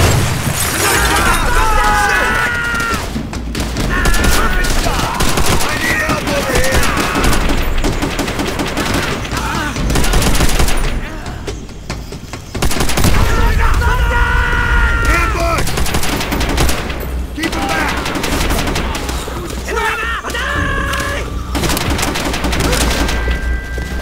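A Call of Duty: World at War battle roars with heavy bursts of gunfire, booming blasts and a grenade explosion, loud and dense throughout, while voices shout over the combat.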